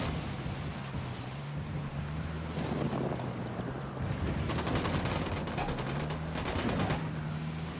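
Gunfire from the Ghost Recon Wildlands video game crackles in distant, rapid bursts under a steady engine drone, fairly faint, with volleys thickening in the second half.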